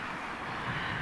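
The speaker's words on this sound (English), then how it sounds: "So got Virgin Dreamliner on his way out." Virgin Boeing 787-9 Dreamliner departing Heathrow Airport, a continuous broad jet-engine roar that holds steady and loud throughout a very short stretch, with no voices.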